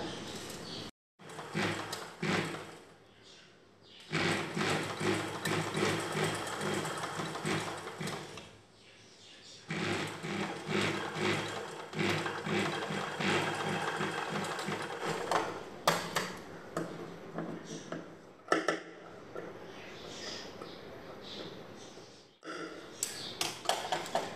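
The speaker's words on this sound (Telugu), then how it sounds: "ఈ రెండో చివరన ఇలా మువ్వలు లేసి పెట్టి కుట్టుకోవాలి." A sewing machine stitches bells onto the edge of a blouse, running in loud mechanical bursts with a rapid ticking rhythm, broken by brief pauses and clicks between runs.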